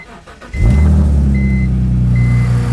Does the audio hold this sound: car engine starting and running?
yes